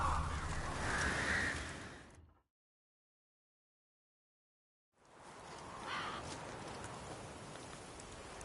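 Crows cawing in The Witcher 3: Blood and Wine, a few harsh calls amid soft rain-like ambience, then near silence for a few seconds before the ambience returns with another faint caw.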